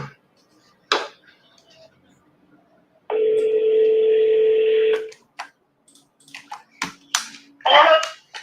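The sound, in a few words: voicemail tone on a phone call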